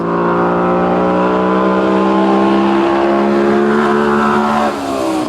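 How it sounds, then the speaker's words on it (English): A loud, close 1974 White truck engine roars and revs with a deep rumbling drone, its pitch rising and holding steady before easing slightly near the end. "This would have to go down as probably one of the most sensational sounding trucks."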